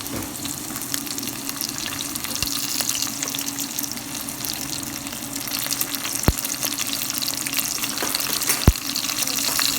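Cloves, cardamom, bay leaf, cinnamon and green chilies crackle and sizzle in hot oil, a steady near hiss broken by a few sharp pops and light stirring sounds, with no talking.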